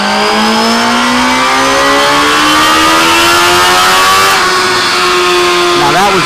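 2017 Suzuki GSX-R1000 motorcycle with a newly installed exhaust, its engine revved hard in one long, loud, steadily climbing pull as the exhaust valve opens, then dropping back near the end.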